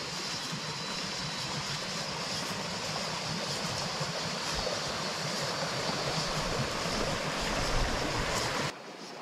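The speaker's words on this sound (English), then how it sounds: "Mini waterfall and little plunge pool there." Steady rushing water from a small waterfall into a plunge pool on a river in Uruguay, a constant broadband roar close by with no voices, continuing unbroken for several seconds.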